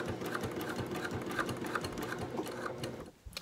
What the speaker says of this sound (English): I've started sewing right here, and I'm using a 3/8 of an inch seam allowance, and I'm going very slowly